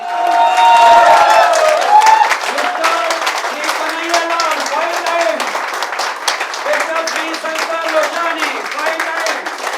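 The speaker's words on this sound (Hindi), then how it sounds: "एक बार जोरदार जोरदार ताली हो जाए सब साथ में" An audience in a hotel event hall claps loudly and continuously, dense rapid applause with cheering, while a voice speaks over the clapping.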